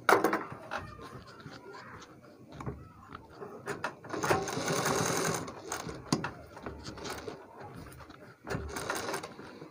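A sewing machine stitches a neck design on a garment in several short bursts, mixed with clicks and the handling of fabric. No one speaks.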